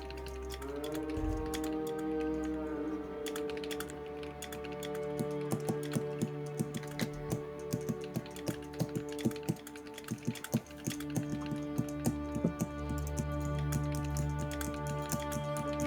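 Quick, irregular clicking of fingers typing on a computer keyboard, bursts of close taps over a faint steady hum, quiet and continuous.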